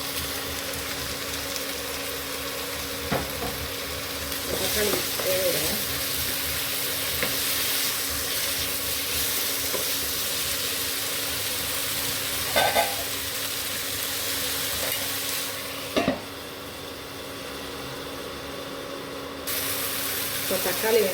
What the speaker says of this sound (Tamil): தக்காளி வேக விடுங்க.